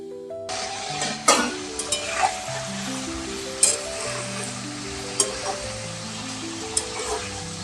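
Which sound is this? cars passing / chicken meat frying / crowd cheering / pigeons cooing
chicken meat frying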